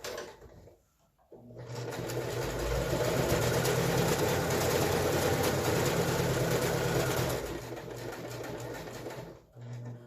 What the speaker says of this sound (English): I'm lining my fabric up with the end of the foot of the sewing machine